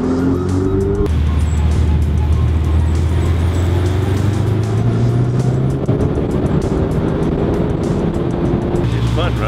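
A Ferrari 488 Spider driving on Beverly Hills roads, loud steady engine drone rising through the gears as it accelerates, with road noise throughout and a person talking over it.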